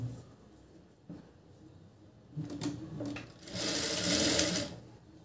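Sewing machine stitching a fabric sleeve with an attachment, heard as two short bursts of whirring followed by a louder, sustained run of rapid stitching close up.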